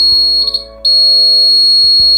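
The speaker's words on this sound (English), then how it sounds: "If we move the fire near to the flame sensor, the buzzer will turn on." A homemade fire alarm buzzer, set off by a flame brought near its flame sensor, gives a loud steady electronic tone with a brief dip and flutter near the start, alone with no voices.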